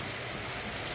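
Steady rain in Santana do Ipanema, Brazil, hisses continuously, an even wash of falling drops with no other sounds.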